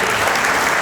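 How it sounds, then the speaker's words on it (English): A church congregation breaks into brief, dense applause, many hands clapping together at a steady, full level. "can we just give a round of applause for him"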